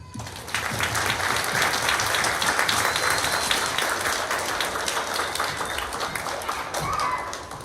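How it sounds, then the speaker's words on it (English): An audience at a school holiday concert for fifth graders, with jazz and chamber groups, breaks into loud, sustained applause. Dense clapping fills the room without pause for several seconds. "So this round of applause from us is for all of you"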